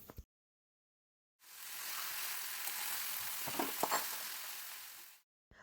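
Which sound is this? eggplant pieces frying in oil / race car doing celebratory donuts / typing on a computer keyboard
eggplant pieces frying in oil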